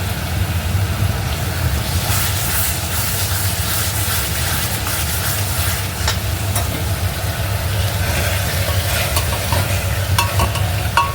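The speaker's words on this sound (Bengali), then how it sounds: "এখানে মশলা কষানো হচ্ছে" Spices fry and get stirred in a pan for a home-cooked Bengali dish, a steady loud sizzle running throughout with scattered scraping and clinking of the spoon against the pan.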